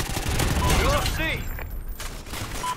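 Gunfire in the Call of Duty game mode Strikezone Domination, dense bursts of shots loud throughout, mixed with game sounds and voices talking over it.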